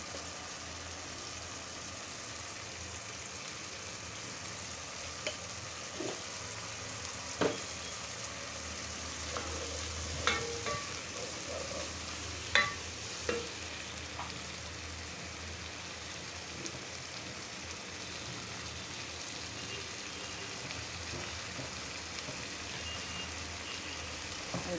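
Spices and tomato sauté in a pan, a faint continuous sizzle with occasional small pops and spatters, steady and quiet throughout with no talking.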